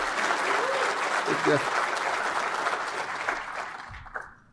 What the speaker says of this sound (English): let's get one more round of applause for our presenters